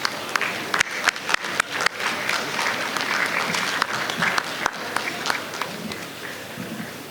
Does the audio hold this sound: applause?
yes